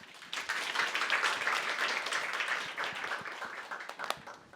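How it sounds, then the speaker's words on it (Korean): An indoor audience at a community leadership lecture claps to welcome a speaker, a dense, even round of applause that holds for the whole stretch before tapering slightly at the end. "박수로 맞이해 주십시오"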